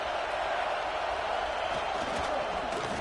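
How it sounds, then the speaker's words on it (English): An Ohio State Buckeye home crowd roars on third down in a football video game, a dense, steady, far-spread roar that holds at a constant level without breaks. "The Buckeye crowd alive on 3rd down."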